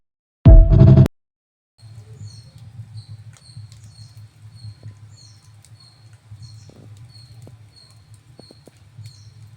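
Rain pours down during a meal at a Basavanna temple, a soft steady patter running continuously after a brief loud burst at the start.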